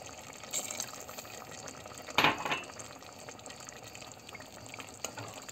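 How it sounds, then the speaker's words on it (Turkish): Hot water is poured into a pot of chicken, mushroom and vegetable sauté, a brief splashing pour in the middle amid quiet kitchen sounds, with no talk. "Hemen biraz sıcak su ilavesi yapıyorum."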